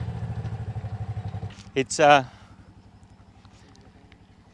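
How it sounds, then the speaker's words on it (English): A motorbike passes on a road through Yala National Park, its low engine note pulsing steadily, rising briefly in a louder rush near the middle, then fading back to a dull rumble; a short word is spoken. "There's a motorbike coming."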